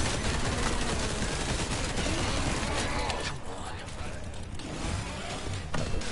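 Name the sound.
gunfire in the video game Resident Evil 4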